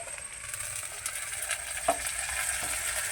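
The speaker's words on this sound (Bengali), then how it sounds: "আলুগুলোকে দিয়ে 2-4 মিনিট ভেজে নেব।" Cut potatoes frying in a pan with onion already softened, a steady close sizzle with light scraping clicks, continuous and fairly quiet throughout.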